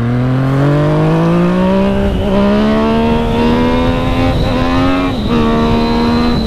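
A motorcycle accelerates hard on a road ride with a passenger aboard, its engine note climbing steadily through loud, close gear pulls, with brief dips at each shift.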